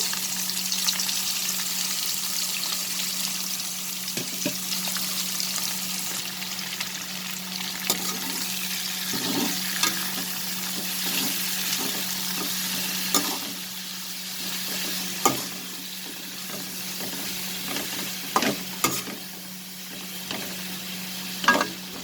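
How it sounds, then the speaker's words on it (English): Stuffed pointed gourd sizzles steadily in hot oil, a dense, continuous frying hiss with occasional soft pops and stirring clicks, close and unbroken. "Now the next step, friends, I'm going to fry all this."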